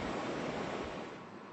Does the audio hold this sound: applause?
no